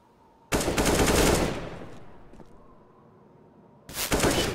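Gunfire in the video game Counter-Strike on the map Nuke, Desert Eagle in use: a loud burst of shots with a ringing tail, a quiet gap, then another loud burst at the end.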